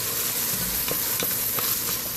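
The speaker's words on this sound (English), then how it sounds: "Sun-dried tomatoes to my vegetables that are sauteing." Vegetables sauté in a pan with sun-dried tomato pesto for a red lentil soup, making a loud, continuous broad sizzle with faint stirring taps underneath.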